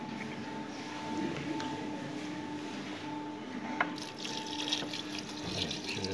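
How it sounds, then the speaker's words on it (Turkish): Water runs steadily into keşkek in a clay pot, a continuous close hiss of pouring and filling with a faint splash midway and no talking. "Keşkeğimizin içine suyunu dolduruyoruz."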